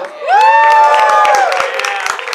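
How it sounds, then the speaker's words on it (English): Fans at a Ghost in the Shell 2017 movie premiere cosplay competition break into loud cheering, whoops and applause for a cosplayer's pose, swelling quickly and holding as a dense, close roar. "I want everyone to cheer for it"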